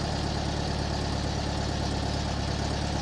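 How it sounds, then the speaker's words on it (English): The engine of a 1968 VW Bus idles at lean best idle, a steady, loud, close rumble with an even low pulse and no talk. "That's going to be what they refer to as lean best idle."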